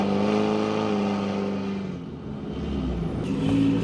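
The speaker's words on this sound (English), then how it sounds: "The perfect Colorado diesel exhaust. Makes all the noises." A Chevrolet Colorado ZR2 diesel pickup with a hood-mounted exhaust stack idles and revs, a deep droning engine tone with a dip, then a rising rev and a brief hiss near the end.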